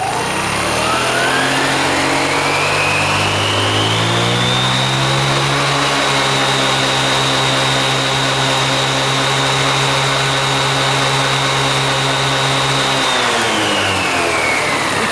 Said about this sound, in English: I'm gonna try to raise the idle and the speed again so you can see the back part coming forward.